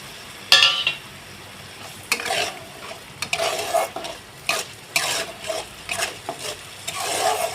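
Masala being stirred and fried in a pan with a splash of water added, repeated scraping strokes of a spoon over a continuous sizzle, close and fairly loud with no talking.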